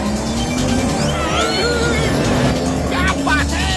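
Cartoon car from the animated series Motu Patlu driving steadily with a continuous engine hum, whooshing swoops and a brief squeal-like flourish near the end, loud and close with no talk.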